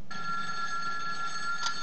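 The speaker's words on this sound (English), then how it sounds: "He gets the phone to find out Nelson skipped out on the campaign" A telephone in a comedy film rings with a steady electronic trill, one continuous burst that holds at moderate loudness for nearly two seconds without talk.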